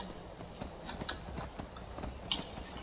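Rapid, even hoofbeats of a galloping horse in the fantasy game Skyrim, modded with Requiem, drum on steadily at moderate volume with nothing else over them.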